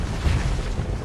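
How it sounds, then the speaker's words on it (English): Missiles explode in the space combat game Star Sector, a brief deep booming rumble with a loud low thump near the start. "Oh yeah, you're in trouble now. Eat missiles."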